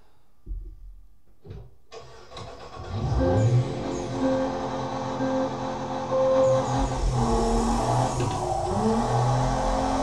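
A race car engine in the DR!FT video game's race mode, a sustained revving drone that rises and shifts pitch after a few quiet opening clicks, fairly loud and steady.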